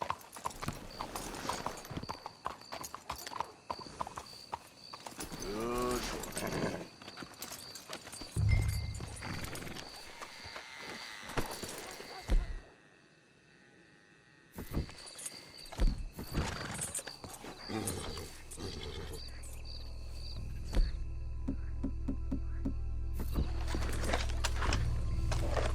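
Horses in the video game Red Dead Redemption 2 clop along at a steady rhythm, with a neigh partway through. A loud rumble builds beneath them toward the end.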